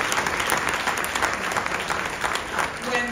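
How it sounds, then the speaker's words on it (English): An audience at a film festival breaks into a big round of applause, a steady dense wash of clapping from a large crowd that carries on for several seconds with a faint voice underneath. "So give them a big round of applause."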